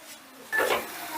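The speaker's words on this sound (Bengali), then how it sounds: "5 মিনিট বাদে ঢাকাটা তুলে নিলাম" A lid lifted off a pot of simmering dal and potatoes, one short metallic clink and scrape, near and fairly soft, followed by a quiet hiss.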